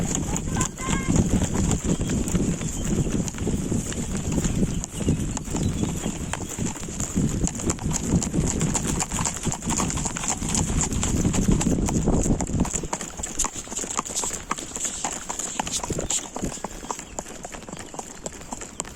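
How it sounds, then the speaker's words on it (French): Horses in the Trois Vallées in July set off again with riders remounting, hooves clip-clopping in a steady rhythm close by, mixed with voices talking throughout over outdoor background noise. "là il est 15h et tout le monde remonte à cheval"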